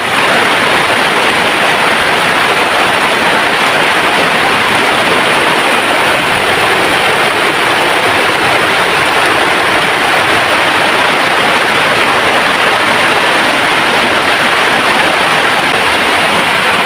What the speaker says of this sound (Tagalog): Grabe ang ulan mga kapati.